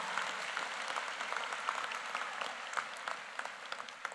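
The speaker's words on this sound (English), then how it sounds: "You deserve another big round of applause, please." Graduation audience at a high school commencement applauds teachers and staff, a steady, dense round of clapping heard at moderate distance with no voices over it.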